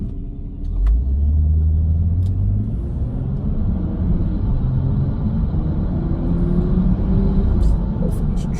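BMW 435 with a CTS turbo intake, heard from inside while driving as a deep continuous engine rumble with rising revs and swelling tones, loud and sustained.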